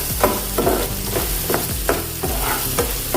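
Finely chopped carrots are stir-fried in a pan for a semolina breakfast dish, with a steady sizzle broken by rhythmic scraping strokes of a spoon about every half second, close and clear.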